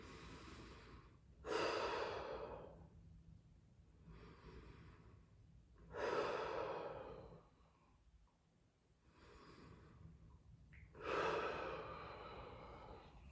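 Slow, deep breaths during a Coregous ball exercise, three long airy exhales spaced evenly a few seconds apart, close and clear, with quiet pauses between them and no speech.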